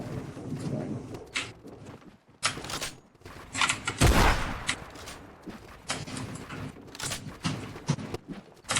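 Gunfire in a multiplayer video game rings out in uneven bursts of sharp, close shots with a louder blast near the middle, over a busy game soundscape with no clear talk.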